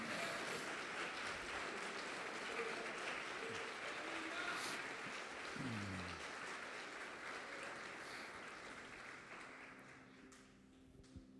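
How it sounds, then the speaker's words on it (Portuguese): A church congregation applauds with sustained, steady clapping from many hands. The applause is distant and fairly quiet and slowly fades toward the end. "Você pode aplaudi-lo e glorificá-lo?"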